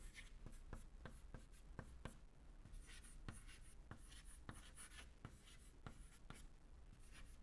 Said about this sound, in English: So, I am writing it in this side.